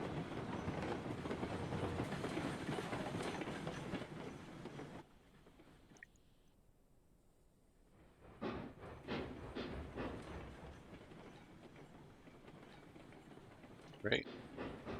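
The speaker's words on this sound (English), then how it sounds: "I'm gonna have to move this train up if I want to empty the last car." Train rolling on rails in the Railroads Online video game, a loud steady rumble for about five seconds that drops to near quiet, then returns with rhythmic clicking and a sharp clank near the end.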